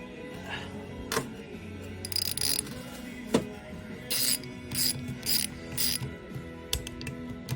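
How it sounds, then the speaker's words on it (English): A 12 mm socket ratchet clicks in repeated short bursts while loosening nuts on a Polaris Scrambler 400 engine during a top-end gasket job, close and moderately loud against a quiet workshop background. "you'll need a size 12 millimeter socket and to get these off."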